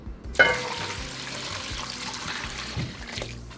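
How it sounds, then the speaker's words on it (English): Water pours into a pot of boiling jackfruit, a splashy gush starting with a sharp hit and then a steady trickling stream close by, with a clunk near the end. "Now I'm going to go ahead and add some more water and boil it for another hour"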